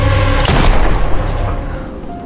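A single loud gunshot cracks out in a dramatized zombie story, a sharp broadband burst with a booming tail that rings over a low ambient bed.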